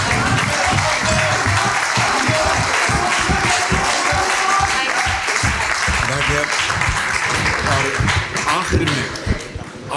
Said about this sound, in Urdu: میں آپ کو درخواست کروں گا کہ مریم نواز کے لیے بھرپور تالیاں